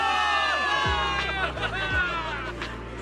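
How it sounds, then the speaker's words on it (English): A video game crowd of soldiers cheers for victory in a short, busy burst of shouts and whoops, with a voice speaking over the noise. "Give it up for yourselves, soldiers! Cheer for victory!"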